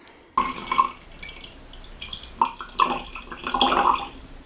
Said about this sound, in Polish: Jest to właśnie ocet, co tutaj wlałam.